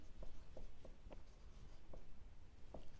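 Faint tapping and scratching of writing on a board during a maths lesson on coordinate geometry, a handful of light irregular strokes in a quiet room.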